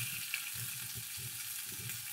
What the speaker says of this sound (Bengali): দেখো বেগুনগুলো বেশ ভালো ভাজা হয়ে গেছে